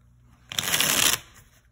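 A plastic Rider tarot card deck is shuffled in one quick, crisp riffle lasting about half a second, close and alone in a quiet room.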